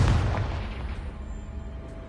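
A Confringo fire spell in a Harry Potter video game bursts as one loud boom, its low rumble decaying steadily over about two seconds with no voices.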